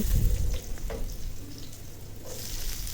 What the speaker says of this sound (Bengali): রসুন কুচিটা ভেজে নিব ভালো করে তেলের সাথে